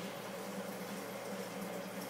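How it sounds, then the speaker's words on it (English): Water drains continuously through the overflow of a 60-gallon acrylic aquarium into a 1-inch pipe, a steady, even rush of trickling and gurgling with no talking. "the water drains in there, and there's a 1-inch pipe going down"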